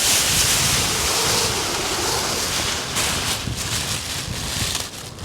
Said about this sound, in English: the wind is affecting it so much because it's so lightweight